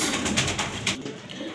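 Grizzle racing pigeons, a newly paired cock and hen, coo in a soft, close, throaty burble for a brief moment.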